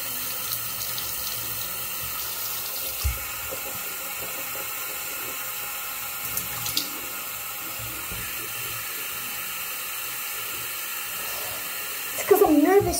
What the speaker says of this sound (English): I'm spitting out the toothpaste.